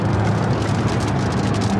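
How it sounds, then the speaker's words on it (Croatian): Steady rain and road noise inside a car driving through Germany toward Vienna, a dense, continuous wash with low engine rumble, fairly loud and without talk. "pada kiša"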